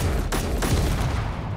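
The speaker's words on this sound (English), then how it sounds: "Oh no, it's got assault cannons! It's tearing up your wasabi!" Assault cannon fire from an enemy in a video game, a dense continuous fusillade of rapid booming shots that stays loud and steady throughout, with no talking.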